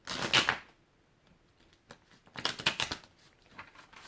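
Tarot cards being shuffled by hand, two crisp riffling bursts separated by a short pause with a few faint ticks, close and fairly loud, no talking.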